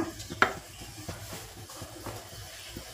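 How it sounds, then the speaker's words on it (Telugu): A single dried red chili dropped into two spoons of hot oil in a pan, giving a soft sizzle with a sharp clack near the start and light stirring scrapes over steady low frying hiss. "నూనె వేడైంది. ఒక ఎండుమిర్చి వేస్తున్నా."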